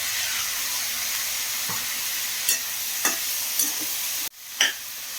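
Tomatoes and brinjal sautéing in a pan for brinjal chutney, a steady close sizzle broken by a few soft scrapes of stirring and a brief dip near the end, with nobody speaking.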